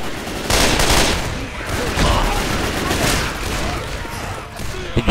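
Gunfire in the zombie shooter Left 4 Dead 2 on a custom map: continuous dense shooting with overlapping shots and blasts fills the whole stretch, loud and close, with no pauses.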